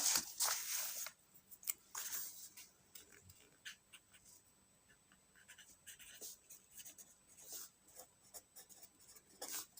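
Faint scratching of handwriting while copying out a 9th-class matrix exercise: intermittent light strokes and taps, louder at the start, then soft and sporadic with quiet gaps.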